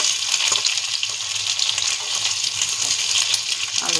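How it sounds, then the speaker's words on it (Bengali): Potatoes fry slowly in hot oil in a large kadai over a gas flame, giving a steady, close, dense sizzle throughout with faint stirring clinks, and no voices. "আলুটা আস্তে আস্তে ভাজা হবে"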